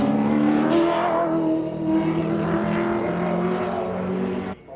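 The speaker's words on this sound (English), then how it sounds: "Taking the green flag and on his timed lap now, Bob Morris" A Holden Commodore touring car at Mount Panorama, Bathurst, on a timed lap roars past with a loud, sustained engine drone whose pitch climbs and shifts as it accelerates, close to the microphone before cutting away near the end.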